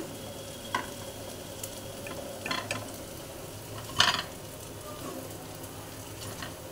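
Paneer, potato and pointed gourd fritters sizzle in hot oil with a steady low crackle, broken by a few sharper clinks and stirring scrapes, close and moderately loud with no talk.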